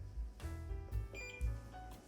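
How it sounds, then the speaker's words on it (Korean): A Panasonic robot vacuum mop emitting short electronic beeps, several tonal chirps in quick succession against low mechanical rumbling, close and fairly quiet. "또 한번 삑 소리가 나고 나서 약간 움직였죠."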